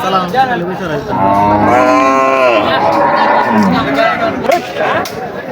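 Loud, drawn-out buffalo lows close by, rising and falling over a busy crowd of voices at a livestock market selling animals for Eid al-Adha sacrifice.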